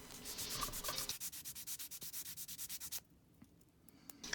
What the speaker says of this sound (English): Back with the super fine sander